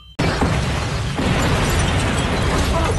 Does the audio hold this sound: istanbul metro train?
no